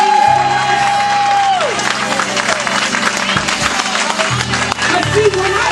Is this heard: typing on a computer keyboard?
no